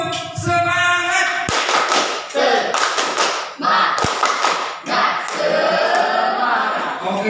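A school class performs a rhythmic spirit clap, bursts of loud, crisp claps and thumps in patterned groups, with children's voices chanting and shouting between the beats in a lively classroom.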